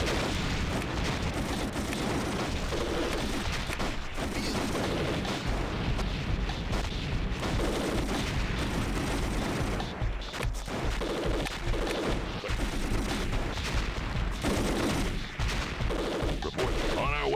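Dense, continuous gunfire and explosive crashes from battling units in the old real-time strategy game Enemy Nations, loud and sustained throughout with a brief dip near the middle.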